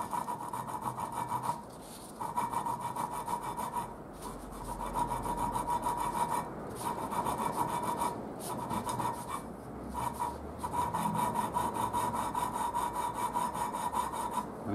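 Engine valves from a Triumph Spitfire cylinder head being hand lapped give a steady rhythmic rasp like a hacksaw, with repeated back-and-forth grinding strokes and brief pauses, close and fairly quiet over a noisy main-road background.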